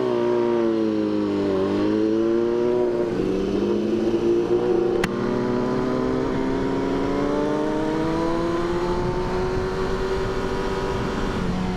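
A BMW HP4 Race motorcycle, nearly stock, pulls through its gears under steady riding, the engine note climbing and dipping with each shift in a continuous, loud onboard roar.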